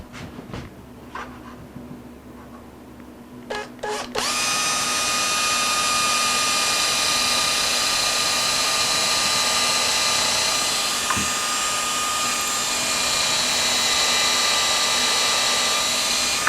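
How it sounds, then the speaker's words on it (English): A drill press motor whines loudly and steadily after a few light clicks and knocks, the drone holding for over ten seconds close by as it drills into wood. "I can pull the top down here and drill that."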